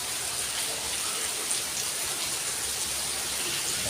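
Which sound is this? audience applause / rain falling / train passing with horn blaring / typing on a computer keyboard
rain falling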